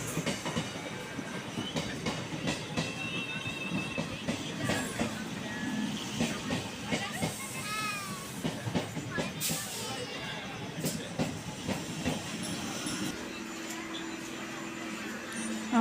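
A suburban train pulling into a station on the line toward South Barasat, with steady rail rumble, clattering wheels and brief squeals and hisses, while platform chatter and voices continue throughout.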